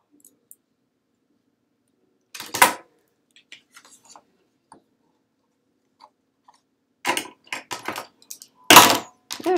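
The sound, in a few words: scissors dropped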